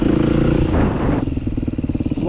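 A motorcycle engine revs close by during a category A licence riding exam, dropping into a rough, pulsing idle with a rattling clatter.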